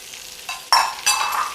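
Diced onion, carrots and pepper hit a hot pan for a chicken cacciatore, rising into a bright sizzle in two bursts and then a steady close crackle, alone without voices.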